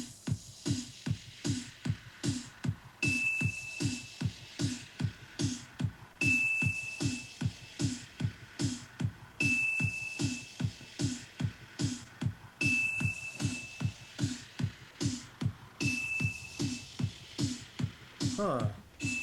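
Spacey, sine-like pitched tone from a ping pong delay, a short bright ping returning about every three seconds over a steady pulsing low throb, with faint voices underneath.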